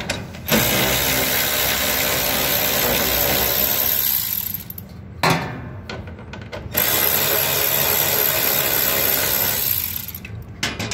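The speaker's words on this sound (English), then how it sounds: "So then you undo the top two 1/4 self-tapping screws." A power driver backing out 1/4 self-tapping screws from the upper shroud of a Maxi Heat 1M BTU heater exhaust cone, two long, loud whirring runs of a few seconds each with a short gap between.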